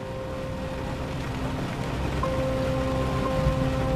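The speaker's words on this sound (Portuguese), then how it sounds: "o tempo no aeroporto fechou e caiu uma forte chuva no local." Heavy rain pours steadily at an airport during a storm, a dense continuous hiss with a low rumbling undertone and faint tonal hum, no voices.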